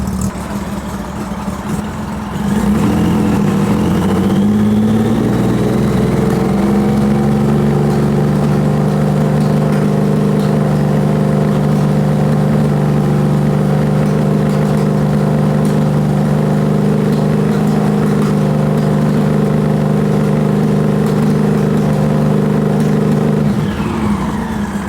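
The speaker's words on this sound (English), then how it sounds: "That's a no choke startup. That's pretty good. Let's let it warm up a little bit." A motorcycle engine idles steadily after a no-choke cold start, warming up with a continuous, even, fairly loud hum that settles into a smooth idle after a brief rise at startup.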